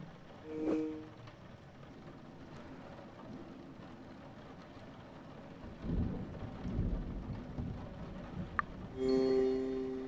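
Steady rain patters under rolling thunder in the Murder By Choice mystery game, with a low rumbling swell midway and a chime-like tone near the end, faint overall.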